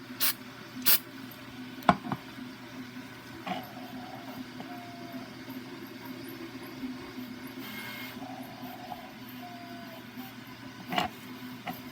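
Short, faint hissing bursts of glue activator being sprayed during assembly of a small model horse cart, spaced a few seconds apart over a quiet room background.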